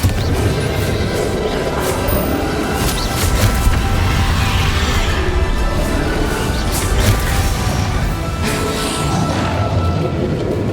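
Bombarda explosion spell cast in the Hogwarts Legacy video game, a dense, loud rumbling blast with crashing impacts and whooshes sustained throughout amid continuous battle noise.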